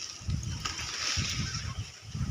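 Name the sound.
water flowing through farm fields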